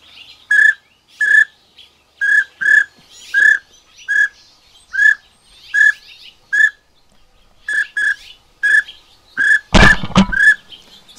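Duck call whistle blown to mimic a pintail, a series of about fifteen short, sharp chirping whistles in quick spaced bursts, close and loud, with one harsh noisy blast near the end.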